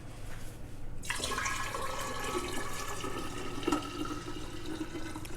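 About 2 quarts of water poured into a pitcher for agua de limón, a steady splashing gush starting after a second and running continuously, close and fairly loud.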